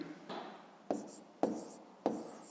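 Pen scratching across an exercise book during a fifth-grade maths lesson, several short strokes in a quick irregular rhythm, close and quiet, with faint voice in the background.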